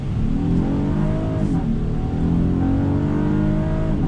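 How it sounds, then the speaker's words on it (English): A 2019 Honda Odyssey minivan with a V6 and 10-speed automatic accelerating hard through a U-turn on throttle, steady close engine roar with rising harmonics as revs climb, no talk. "making a U-turn on throttle"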